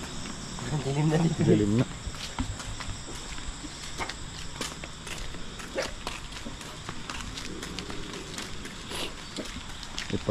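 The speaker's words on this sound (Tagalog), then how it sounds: "Huni na lang ng kuliglig yung naririnig natin dito." Dense, continuous chirping of crickets fills a night scene in a forest, with a voice speaking briefly near the start and occasional footsteps and rustling.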